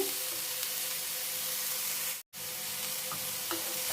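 Snake gourd pieces fry in a pan with a steady, dense sizzle throughout. The sound cuts out for a brief moment partway through. No one speaks.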